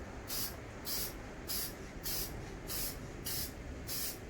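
Seven short bursts of spray paint hissing from an aerosol can onto a Dodge wheel rim, evenly spaced about half a second apart, close and fairly loud.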